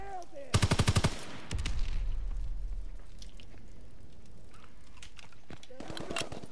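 A loud, near burst of automatic machine-gun fire opens this Call of Duty WWII online match, followed by a second shorter volley and a quieter tail of distant shots, with a player talking over the action.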